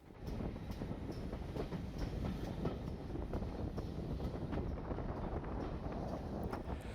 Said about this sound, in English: Heading south on a stopping train from Loughborough, we passed over the viaduct that crosses the Swithland reservoir